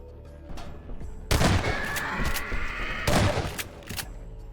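Shotgun blasts in Half-Life 2 while fast zombies climb a building: two loud, booming shots about two seconds apart, each with a long rumbling tail, over a busy game soundscape.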